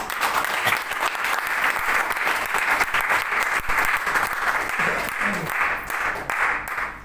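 An audience at a celebration event applauds loudly and continuously for several seconds, a dense crowd of clapping hands without talk.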